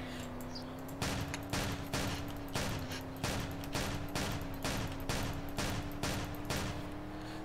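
Rapid bursts of video game gunfire blast out car windows during a police chase, a steady hum beneath loud repeated volleys that keep going for several seconds.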